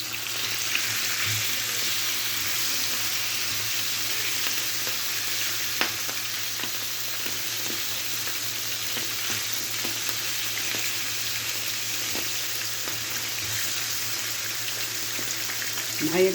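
Liver sizzles and fries steadily in a pan, a continuous crackling hiss close up with a faint background hum, with no talking over it.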